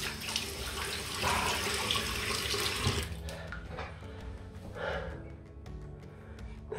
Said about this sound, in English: I'll put more water in, just so you can see.